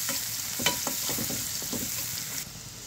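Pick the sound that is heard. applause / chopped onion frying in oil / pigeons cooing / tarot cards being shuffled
chopped onion frying in oil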